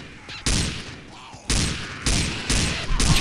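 A magnum pistol with laser sight fires in Left 4 Dead 2, four loud booming shots spaced roughly half a second apart, each with a short decaying tail.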